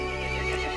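A horse in the video game Resident Evil Village gives a short, loud, ringing whinny with nothing else around it.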